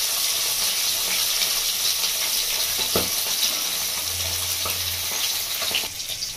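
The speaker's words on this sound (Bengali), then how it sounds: "বন্ধুরা, মাছটা একটু ভালো করে ভেজে নেব।" Bhola fish frying in oil in a pan, a loud, close, continuous sizzle with occasional bubbling pops and a brief scrape near the end.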